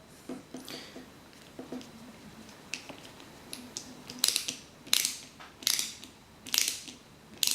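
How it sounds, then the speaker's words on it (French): An AM-type screw is driven into a DeLorean model kit part, giving a series of quiet ratcheting clicks and creaks that grow into sharper, louder crunching turns toward the end, with no talking. "Placez ensuite une vis de type AM dans l'un des deux trous. Puis serrez raisonnablement."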